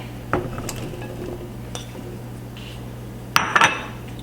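A few clinks and clatters of potatoes dropping into a metal pan with water, with a louder cluster of knocks near the end over a steady low hum.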